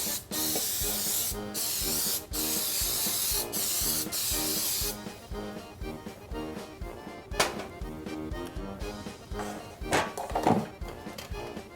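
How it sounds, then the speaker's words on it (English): Cooking oil spray hisses from an aerosol can into baking pans in several sharp, close bursts, followed by softer clunks and handling of the pans. "be careful when you spray so you don't get it all over your cupboards."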